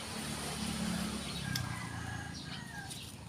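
A rooster crows faintly in the distance amid clucking hens and outdoor background noise, with no one talking.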